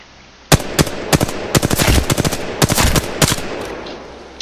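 R-301 rifle in the video game Apex Legends firing loud, close bursts of rapid automatic shots, split by short pauses, and no talking.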